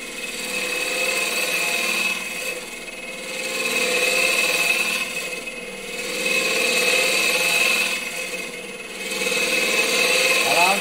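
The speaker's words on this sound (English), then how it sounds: "Just feeding this cutter in a couple of mil at a time." A lathe cutter is fed gradually into a thin-walled wooden turning, giving a steady buzzing scrape that swells and fades in slow, regular waves as the tool is pushed in and eased back.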